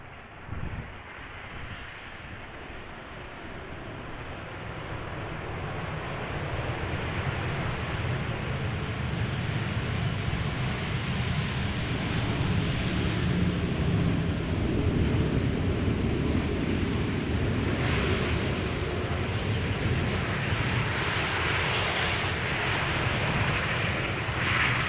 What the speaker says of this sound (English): our next airplane about to touch down, arriving from Paris Charles de Gaulle, KLM 737.